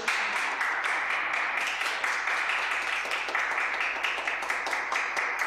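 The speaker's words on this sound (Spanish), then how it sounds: "Somos poquito, podemos aplaudir." A few guests at a small same-sex wedding in Uruguay applaud steadily just after the couple are declared married, a thin continuous patter of hands close by with no voices over it.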